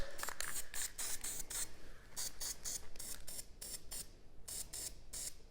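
Spray paint hisses in short, repeated bursts onto a hunting bow being camouflaged, the quiet pulses broken by brief gaps as the can is moved around the cracks and corners.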